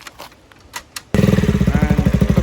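Modified KTM Duke 200 BS6 motorcycle exhaust firing up after a second of near quiet, then a loud, close, rapid burbling idle with a steady pulsing rhythm.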